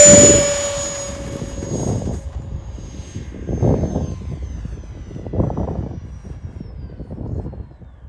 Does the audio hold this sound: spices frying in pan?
no